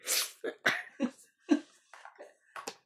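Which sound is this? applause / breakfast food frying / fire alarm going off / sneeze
sneeze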